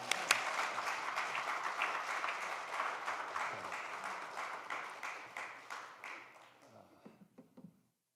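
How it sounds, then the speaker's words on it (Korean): A church congregation gives a welcoming round of applause, dense clapping filling the room for several seconds before thinning out and trailing off into a few scattered claps. "할렐루야로 환영의 박수를 하겠습니다"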